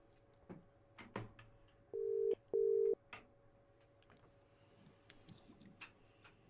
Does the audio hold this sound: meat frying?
no